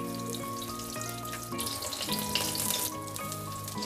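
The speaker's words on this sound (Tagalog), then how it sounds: "Magpiprito tayo ng talong." Diagonally cut eggplant frying in oil in a pan crackles and sizzles up close, the spattering growing busier midway, with a steady tonal hum running underneath and no talking.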